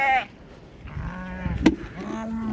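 Sheep bleating on a farm during lambing season, a couple of wavering calls at the start and end with some handling noise and a sharp knock between them.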